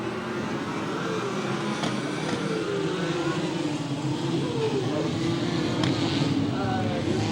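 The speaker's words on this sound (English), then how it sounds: "Down to turn number 1, we got cars everywhere banging and bumping into each other." USAC/CRA sprint cars and Ford Focus midgets at Ventura, California race into turn one, a dense, distant engine drone with revving rising and falling under a commentator's talk.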